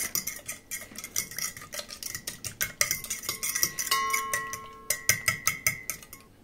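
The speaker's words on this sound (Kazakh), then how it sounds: "Осылардың барлығын жақсылап араластырамыз." A utensil clinks rhythmically against a bowl as oil and other ingredients for pizza dough are stirred, a quick steady series of taps close by, with no voices.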